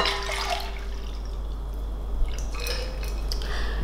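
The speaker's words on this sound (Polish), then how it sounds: "mieszamy i znowu wodę wylewamy" Water is poured off soaked, swollen sprouting seeds in a container, a soft trickling and splashing with light clinks of the vessel over a low steady hum.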